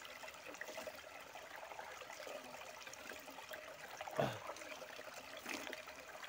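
Water trickles and splashes softly at a jungle water source while someone drinks from it, a faint steady flow with one brief louder splash near the end.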